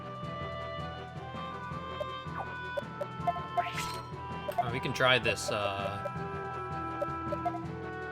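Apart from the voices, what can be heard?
chicken enemies clucking in video game Radiant Historia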